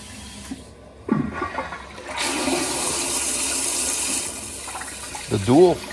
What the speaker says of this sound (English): the dual flush feature delivers a powerful and efficient flush, quickly removing waste and water